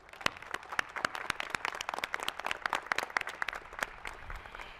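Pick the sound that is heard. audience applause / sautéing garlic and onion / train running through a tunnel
audience applause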